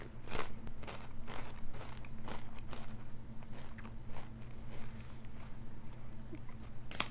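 Malt vinegar flavoured potato crisps crunch loudly close up at the first bite, followed by repeated, softer crunchy chewing in an uneven rhythm, with no talking.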